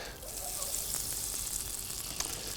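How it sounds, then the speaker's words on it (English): Unsalted butter sizzles in a hot pan, a soft, steady crackling hiss with faint pops, heard alone and fairly close. "we're going to pop our unsalted butter in the pan as well"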